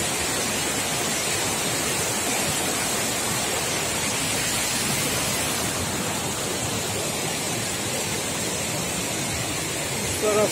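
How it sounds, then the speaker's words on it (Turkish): Waterfall beside a walking path at Uzungöl, Trabzon, pouring as a dense, steady rush of white water, loud and close, with no voices over its continuous roar. "Sabah yürüyüşü yaparken böyle bir şelaleye denk geldim."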